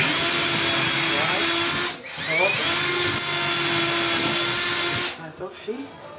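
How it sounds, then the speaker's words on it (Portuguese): A power drill fitted with a wood bit bores a hole for filler, giving a steady, close motor whine that dips briefly midway and then cuts off. People talk over it. "Quando você for furar o buraco pra botar o filler"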